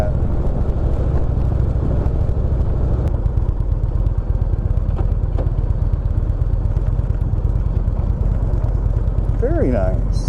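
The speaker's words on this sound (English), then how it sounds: "dropped it down to 6th gear. Yeah, it wants to lug, but we're only doing 1400 RPM" A 2018 Indian Chief Vintage motorcycle engine lugs at low revs in sixth gear, giving a deep, steady, close rumble that continues throughout, with speech heard over it.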